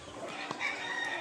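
Roosters and hens on a breeding farm cluck and crow close by, overlapping calls forming a busy, continuous poultry chorus in a brief burst.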